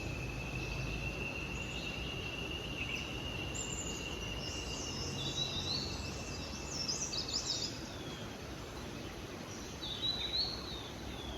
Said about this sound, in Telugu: పిచ్చుకల సౌండ్ చూడు ఎట్లా వస్తుంది.